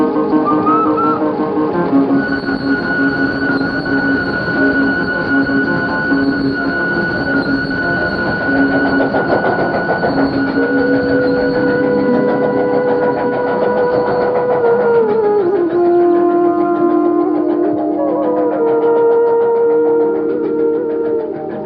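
A train pulls out of a station, steady rolling rumble with a whistle-like tone and a falling squeal of wheels as it moves away; no voices.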